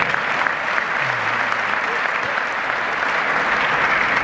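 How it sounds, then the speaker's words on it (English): A film festival crowd in Marrakech applauds continuously, a dense wash of clapping that stays steady and fairly loud throughout. "You should applaud them too."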